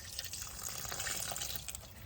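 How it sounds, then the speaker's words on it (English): Water is poured in while making tamales at home, a faint steady trickle and splash of liquid with small drips, with no talking. "And now we're gonna add the water."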